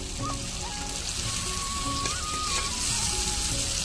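Chicken added to a pan of frying potatoes sizzles loudly and steadily, a close, dense crackle that fills the whole moment with no pause.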